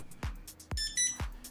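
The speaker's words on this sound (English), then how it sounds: "Press star and listen out for a confirmation beep." A keypad on an eFuel system gives a short electronic confirmation beep, a bright tonal chirp set among a few soft thumping key presses, heard close and fairly quiet.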